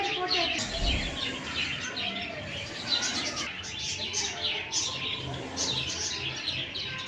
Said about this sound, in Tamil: இதான் நம்ம வீட்டில் வந்து உட்காருமே ஒரு குருவி.